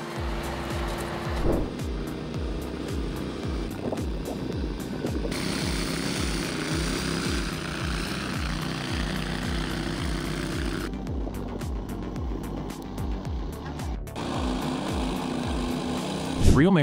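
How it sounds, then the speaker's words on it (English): A compost turner pulled by a small 40-horsepower tractor runs steadily, giving a loud continuous engine drone with rhythmic mechanical churning pulses throughout. "This machine you see is a compost turner, designed to be pulled by a small 40-horsepower tractor."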